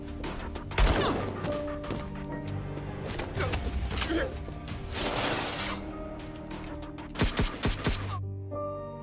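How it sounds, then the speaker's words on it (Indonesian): Gunfire rings out in an Asian action film scene: sharp shots and short rapid bursts, some close together, break through a busy soundtrack over about nine seconds. "Caleb yang mendengar suara tembakan berniat keluar untuk membunuh Maria"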